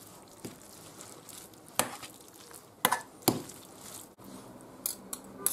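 A utensil stirs spaghetti with tuna in a pan over a faint sizzle, giving several sharp, irregular scrapes and clicks against the metal.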